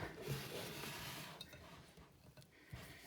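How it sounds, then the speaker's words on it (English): A spoon stirs peanut butter cookie dough for peanut butter blossom cookies in a bowl. The sound is quiet, close and steady, a soft scraping and squishing with a few light knocks against the bowl. "So now I just have to stir it up."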